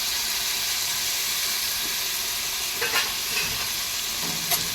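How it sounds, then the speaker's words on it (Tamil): Tomatoes and mushrooms sizzle and fry in a pan as they are stirred, a steady close hiss with a few soft scrapes near the end and no voices. "இதை வந்து நல்லா மிக்ஸ் பண்ணி எடுத்துக்கலாம்."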